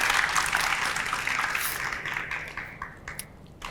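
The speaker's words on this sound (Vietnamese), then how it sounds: "chúng ta cho một tràng vỗ tay để cổ vũ tinh thần nào" A studio audience at a Vietnamese dating show gives a sustained round of clapping, loud and dense at first, then thinning and fading toward the end.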